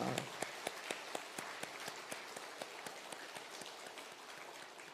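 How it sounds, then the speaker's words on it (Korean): Church congregation at a Wednesday service clapping to encourage a departing missionary pastor, faint, fairly rhythmic claps standing out over a soft hiss of scattered applause, distant in the room. "뜨거운 박수로 한번 격려해 주기를 바랍니다"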